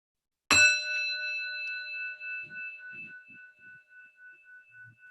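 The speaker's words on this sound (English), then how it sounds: "I'll start and end the practice with the chime of the bell." A single meditation bell struck once at the start of a mindfulness practice, ringing out with a clear bright strike and a long sustained shimmering decay, with faint soft rustles underneath.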